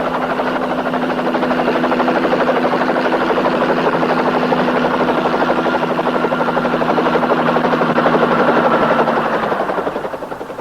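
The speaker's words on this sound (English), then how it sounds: "The copter, Natasha." A helicopter in a B-movie thrums close and loud with a fast, steady rotor chop throughout, fading slightly at the very end.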